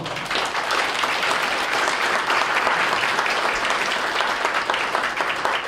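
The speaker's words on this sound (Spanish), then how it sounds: "fuerte aplauso por favor" People at a book presentation break into strong applause, a dense and even burst of clapping that stays loud and steady throughout.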